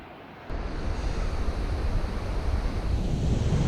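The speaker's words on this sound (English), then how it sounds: "That is a waterfall. All coming from the top of the mountain." A waterfall tumbling from a mountain top along the Hooker Valley Track in New Zealand roars as a steady broadband rush, starting abruptly after a quiet half-second and holding loud and constant, with wind buffeting.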